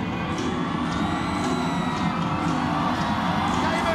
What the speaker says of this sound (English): listen to the crowd go bananas for the tiny doll